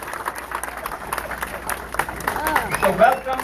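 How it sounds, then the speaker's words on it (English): An audience applauds at a political gathering, a crowd of hands clapping near and steady, swelling slightly toward the end with faint murmuring mixed in. "Let's give him a big round of applause."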